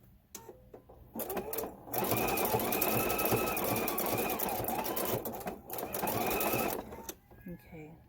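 A sewing machine stitches binding onto a fleece quilt in a steady, close, rapid run of about five seconds, framed by short start-stop bursts, while a person talks over it.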